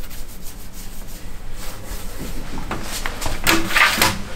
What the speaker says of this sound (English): You don't paint it on, you rub it up, you rub it in.